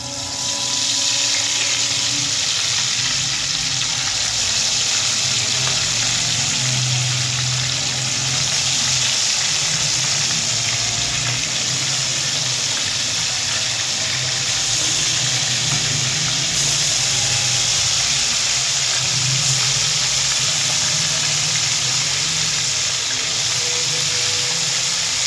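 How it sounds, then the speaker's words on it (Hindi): Chicken pieces frying in oil give a loud, steady sizzling hiss that fills the whole stretch without pause, with a faint low hum underneath. "ये देखिए बस फ्राई होना शुरू हो गए हैं"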